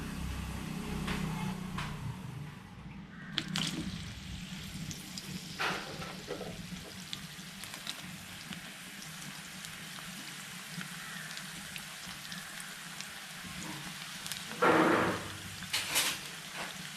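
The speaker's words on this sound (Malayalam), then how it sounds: "സോ ഫസ്റ്റ് നമ്മൾ വലിയ ഉള്ളി ഒന്ന് ഫ്രൈ ചെയ്തെടുക്കണം." Big onions frying in oil for a Hyderabadi chicken dum biryani give a steady, close sizzle that runs throughout, with a few brief clinks and a louder crackling burst near the end.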